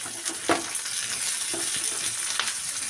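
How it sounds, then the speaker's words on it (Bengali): Chopped onion and nigella seeds frying in fish oil, a close, constant bright sizzle with a few soft knocks and scrapes of a stirring spoon, no talking. "এগুলোকে ভালো করে নাড়াচাড়া করে ভেজে নিতে হবে।"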